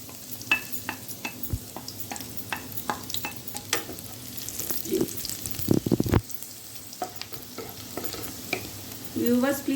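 Finely chopped garlic frying in hot ghee, a steady close sizzle broken by repeated sharp scrapes and clicks of a stirring spoon, with a louder clattering burst near the middle and no talk.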